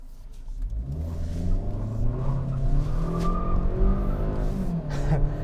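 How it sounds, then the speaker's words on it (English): A 2021 Kia Sportage S engine revs hard while accelerating in sport mode, with a brief tire chirp riding over the steady, close road noise. "it kind of chirps its tire a little bit"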